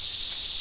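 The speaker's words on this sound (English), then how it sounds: "Sorry about the cicadas. They're kind of loud." Cicadas drone loudly in a continuous high buzz, steady and unbroken over the short stretch, with no voices.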